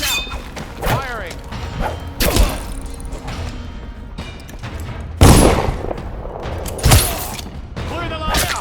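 Gunfire in the stealth video game Dishonored rings out as several loud, booming shots amid ongoing combat clatter, with shouting guards and other voices over a dense, noisy battle background.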